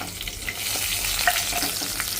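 Chana dal sizzles and fries in hot oil for a tempering, a steady, close crackle with faint stirring scrapes running throughout without pause, and no one speaks over it.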